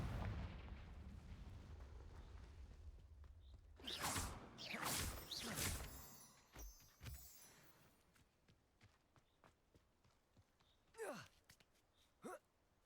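A fire spell explodes in Hogwarts Legacy, sounding as a cluster of loud bursting blasts with crackling tails, followed by scattered mechanical clicks and two more sharp bursts near the end.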